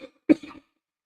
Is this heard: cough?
yes